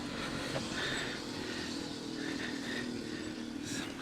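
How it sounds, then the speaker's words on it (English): A motorbike being ridden on grass drones steadily in the background, fairly faint and distant, with no talking over it. "the motorbike you can hear in the background, because that's being ridden on the grass by a kid"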